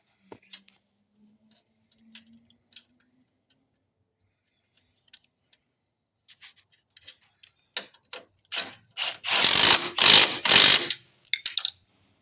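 A ratchet tightens the strut assembly bolts on a 2001-2010 Chrysler PT Cruiser, starting with sparse faint clicks and building to rapid close ratcheting bursts, followed by a few final clicks.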